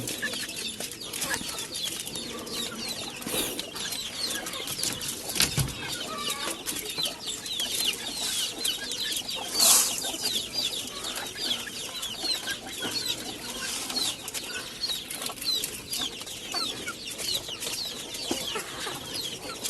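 Chickens cluck and murmur over a steady background hiss while being fed cut grass, with scattered soft calls and occasional sharper sounds throughout.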